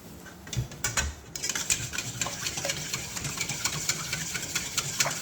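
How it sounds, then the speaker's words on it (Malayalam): Cream caramel mixture being beaten in a bowl, a steady motor whir with rapid clinks of the beater against the bowl, starting after a brief quieter opening. "ഇതുപോലെ ഇത് ബീറ്റ് ചെയ്തെടുക്കാം നമുക്ക്"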